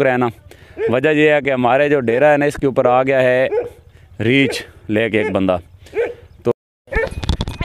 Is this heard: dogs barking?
yes